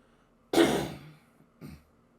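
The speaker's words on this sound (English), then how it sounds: "Excuse me for coughing." Two close, dry coughs: a strong, harsh first one followed about a second later by a shorter, softer one, in an otherwise quiet room.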